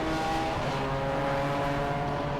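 A Smart car pulls into the pit lane during a circuit race at Silverstone, its engine a steady, loud, continuous roar filling the whole stretch without a break.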